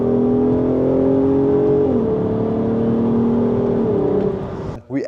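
Volkswagen Golf 5 R32 with its six-cylinder engine revving as it drives, a steady loud drone that shifts pitch briefly midway, then dips and rises sharply near the end, with no talk over it.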